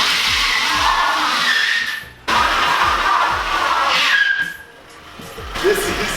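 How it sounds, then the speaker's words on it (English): A cheap used car on winter tires spins one wheel on an open differential, a loud engine revving with tire squeal in two bursts separated by a brief drop, no talking. "Why is only one wheel spinning?"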